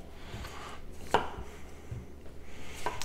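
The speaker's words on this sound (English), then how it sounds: "humongous knife" A large, heavy kitchen knife chopping through a dense sweet potato on a cutting board, with several distinct chops, one sharp loud cut standing out among quieter taps in a quiet room.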